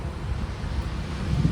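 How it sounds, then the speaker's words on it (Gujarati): Wind blowing outdoors at night, heard as a low rumbling buffet against the microphone that stays steady and fairly loud with slight gusts, and no talk. "પવન ચાલે છે નહીં?"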